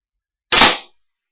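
A single sharp snap is heard as a homemade elastic-powered crossbow fires a plain pencil. It is one close, loud crack that fades quickly, with silence before and after.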